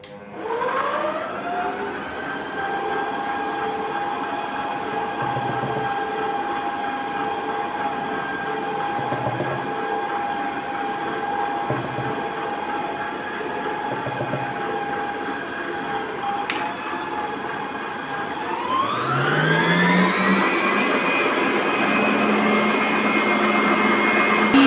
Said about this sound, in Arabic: راح اضيف اللبنة، ايضا اضيف واخفق خفق بطيء